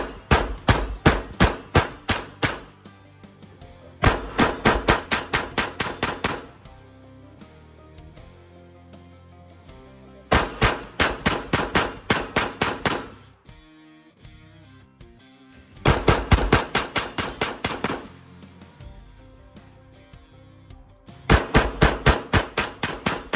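Rapid strings of sharp gunshots from a Grand Power K22 X-Trim pistol at a shooting range, fired in four or five fast bursts of about eight to ten shots each, loud and close, with short quiet pauses between strings.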